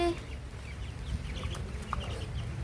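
A chicken clucks a few short times amid steady outdoor background noise, close by and moderately loud.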